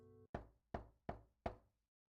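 Four sharp, evenly spaced knocks on a door in the video game Burn the Midnight Oil, crisp and close, following a brief low tonal sound, with no talk.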